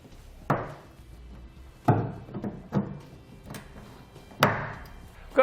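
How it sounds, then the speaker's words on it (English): Tin snips cut metal while a trailer hitch goes in under a 2019 GMC Sierra truck bed: about five sharp, separate snaps come at irregular intervals, close, with quiet pauses between and no voices. "We're just using some tin snips to do that."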